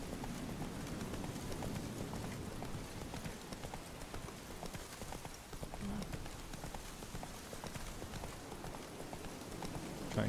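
Roach, Geralt's horse in The Witcher 3, galloping with steady, rhythmic hoofbeats that run continuously at close range over a low rumble of ambient noise.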